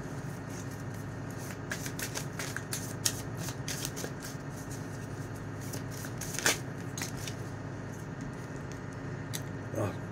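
Tarot cards are shuffled by hand, a series of quick papery riffles and soft slaps repeating close up over a quiet room hum, with no one talking.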